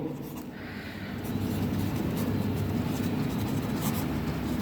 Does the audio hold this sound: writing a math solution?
yes